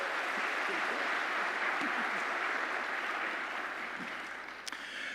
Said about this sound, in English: All those in favor signify with your applause.